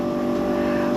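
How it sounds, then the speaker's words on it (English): The fuel pump of a Ford Festiva fitted with an EcoBoost engine primes with a steady, even electric hum that holds constant throughout, close and fairly loud. "The fuel pump sounds like it's priming good."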